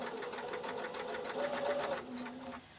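A sewing machine stitches around a curve in a felt pumpkin stem, a close, steady rapid whirring hum running continuously throughout.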